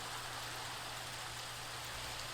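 Steady rain falls in a Minecraft creative-mode world, a soft, continuous hiss with no breaks, heard on its own at low level.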